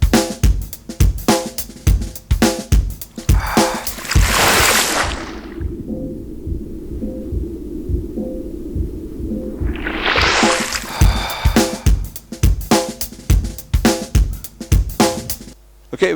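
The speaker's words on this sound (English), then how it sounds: "sound of the bubbles, okay?" Gurgling underwater bubbles used as a game sound effect in place of a closing door, a steady watery burble in the middle between bursts of sharp clicks and knocks at the start and end, with no talk.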